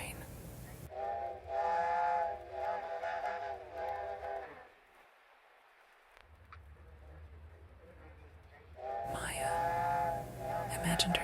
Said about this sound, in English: The story began with the sound of a train whistle